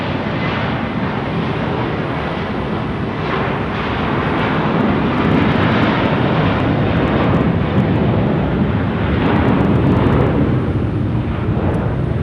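Airliner at Phoenix Sky Harbor airport, a loud sustained broadband jet roar that holds steady and swells slightly toward the end, close and filling the whole clip with no talking.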